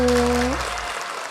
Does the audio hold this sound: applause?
yes